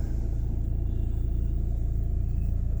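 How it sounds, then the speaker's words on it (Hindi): Inside a Mahindra XUV700 diesel on the move, a steady low road and engine rumble fills the cabin, even and constant with no voices over it. "हल्का सा नॉइस तो आने ही वाला है देखिए कैबिन में।"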